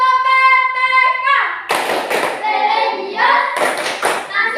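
Children perform the rhythmic Tepuk PPK clapping chant in a classroom, sharp claps in patterned bursts mixed with chanted voices, loud and close after a sung tone opening.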